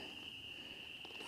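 A male toad calls at night during an amphibian migration in Berkshire, giving a faint, steady, high-pitched trill that runs unbroken through the moment with no voices over it.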